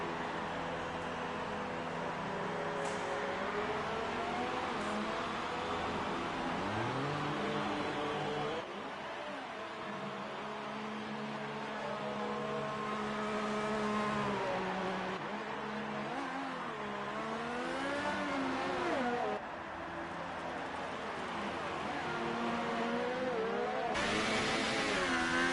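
Race car engines drone and rev around the streets of Monaco as a car leaves the pits, with pitch climbing and dropping through gear changes and cars passing, loud and continuous with no talk.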